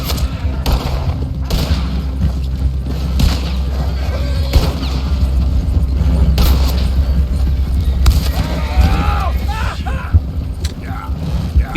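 Loud explosions and booming gunfire rumble through a Red Dead Redemption 2 game scene as horses blow up, with sharp cracks repeating over a continuous low roar.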